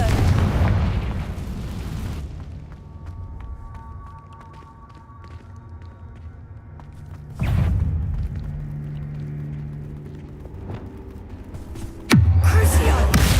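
Blasts of the Confringo spell in a video game: three loud, booming explosions spaced several seconds apart, each fading into a rumbling tail with tonal ringing between.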